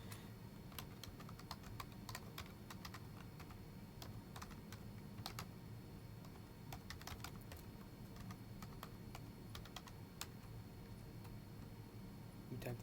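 Rapid, steady typing on a computer keyboard while entering a password, with close, crisp key clicks in an uneven rhythm that runs throughout without pause.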